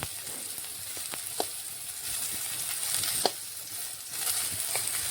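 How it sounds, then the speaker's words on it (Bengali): Drumstick vegetables frying in a small amount of oil for a Bengali shukto, giving a steady soft sizzle with a few sharp pops and crackles scattered throughout, close and even, with no talking. "আমি এখানে কম তেলে ভাজছি"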